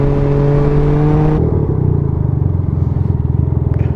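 A Can-Am Ryker three-wheeled motorcycle engine rumbles steadily close by, its low throbbing drone shifting partway through as the ride continues, with no talking.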